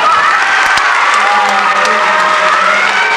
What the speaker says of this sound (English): I'm going to make a round of applause for the workshop.